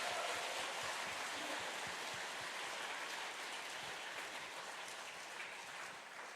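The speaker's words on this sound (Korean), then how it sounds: "우리 청소년들에게 큰 박수 한번 보내주셨으면 좋겠습니다" A church audience at an Advent lecture applauding the youth, a dense, steady wash of clapping from a large crowd heard from a distance, gradually easing off toward the end.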